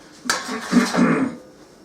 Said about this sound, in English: Just put the uncooked back into the oven.